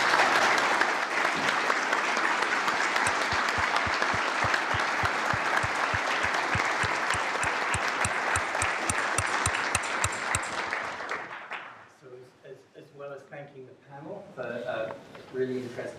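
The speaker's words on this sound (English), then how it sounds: "Please join me in giving them a hearty round of applause" A lecture audience gives the panelists a hearty round of applause, dense clapping with some distinct individual claps that holds steady for about ten seconds, then fades as a voice begins speaking.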